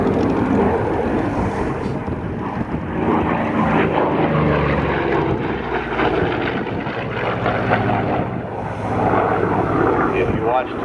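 An FG-1D Corsair, a World War II fighter plane, drones its engine continuously at an outdoor airshow, a steady propeller roar heard at some distance with wind buffeting the microphone.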